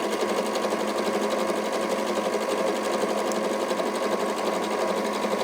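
A sewing machine runs steadily and loudly, top stitching bag handles at a 2.8 stitch length, its even hum unbroken from start to finish.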